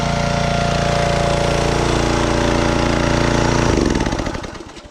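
A wood splitter's small engine runs loud and steady close by, then cuts off and sputters down to silence in its last second.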